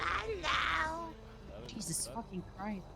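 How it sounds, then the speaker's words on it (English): A cat meows a few times amid background sounds from the game GTA V roleplay server NoPixel, with a person speaking over it. "Yep, that's a cat."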